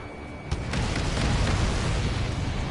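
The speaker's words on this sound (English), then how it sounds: "Did you see that explosion?" A video game explosion: a sudden blast hits after half a second, followed by a sustained roaring rumble that fills the rest of the moment, loud and continuous.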